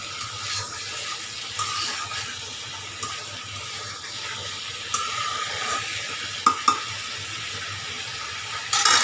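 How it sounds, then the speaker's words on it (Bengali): Fish being stirred as it fries in a pan for a dry curry, a soft steady sizzle broken by occasional scraping and clinking of a utensil against the pan, heard close without talk. "মাছ যদি সুন্দর করে ভাজা নেয়, যেভাবে সেভাবে লাড়াচাড়া করা যায়।"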